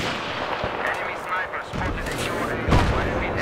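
Gunfire in the video game Battlefield 3 on the Tehran Highway map, with several sharp shots and a louder blast near the end over a steady battle din.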